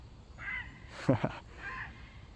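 A crow caws twice in quick succession, close and fairly loud, between softer wailing tones before and after.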